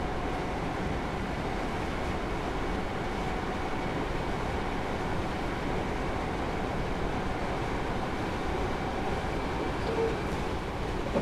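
Class 313 electric train in Train Simulator 2017 running at speed through a tunnel, a steady, dense roar and rumble of wheels and motors that holds constant throughout, with no voices.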